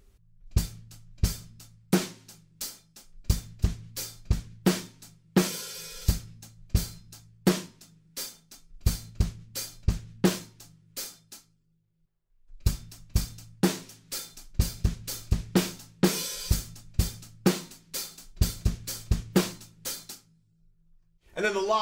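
Drum kit playing a rock groove, with steady kick and snare hits under busy cymbals, a short pause near the middle, then the pattern returning, close and loud.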